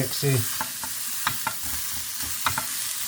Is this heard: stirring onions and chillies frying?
yes